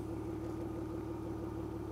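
A BMW E36 328i engine idles smoothly and steadily, a low, even hum with a faint rhythmic throb and no talking.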